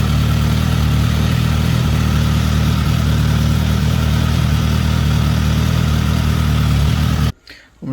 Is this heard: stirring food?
no